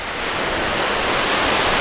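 Sea waves at a beach south of Halifax, Nova Scotia, a steady broad roar of surf, loud and continuous with some wind, and no voices.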